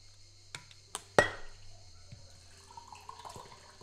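A glass of water being poured at a desk, opening with a few light clinks and a short splash, then a faint trickle of liquid that fades into quiet background.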